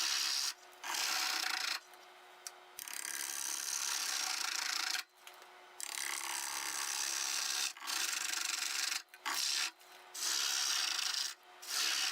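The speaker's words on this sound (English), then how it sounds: "Got a freshly sharpened 1/2 inch hole gouge." A freshly sharpened half-inch bowl gouge hollows a maple bowl on a lathe, producing loud close scraping and rasping cuts in long sustained passes broken by short pauses.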